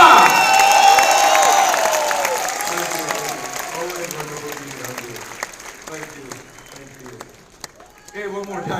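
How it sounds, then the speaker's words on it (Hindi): Large audience bursts into loud applause and cheering for a speaker at a BCP business event, the clapping swelling early then fading over several seconds, with talk and crowd murmur emerging underneath. "जोरदार तालियां"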